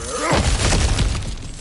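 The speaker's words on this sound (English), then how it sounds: "Ah, back to smashing through things for fun and profit." An obstacle smashed open in a video game, a loud close shattering crash with crumbling debris that trails off over about a second.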